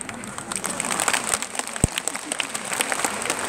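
Audience applause at a Vita insurance presentation event, a steady dense patter of clapping sustained throughout, with a voice faintly underneath.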